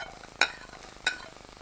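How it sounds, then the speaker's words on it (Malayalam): Chopped onions and split green chillies with garlic fry in a pan for pepper chicken, a soft sizzle broken by two brief scraping stirs about half a second apart. "ഇനി സവാള ബ്രൗൺ ആകുന്ന വരെ ഒന്ന് ഫ്രൈ ചെയ്തെടുക്കുക."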